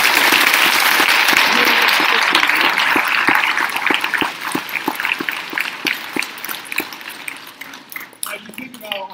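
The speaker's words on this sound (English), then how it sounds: "Round of applause for him again." An audience at a school Veterans Day program applauds for a speaker, Lieutenant Colonel Sanders, with a loud dense round of clapping that thins into scattered individual claps before fading out.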